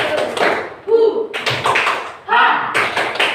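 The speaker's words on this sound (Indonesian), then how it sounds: "Tepuk semangat." A school class performing a rhythmic spirit clap, quick patterned bursts of hand claps alternating with group chanting and voices, loud and close.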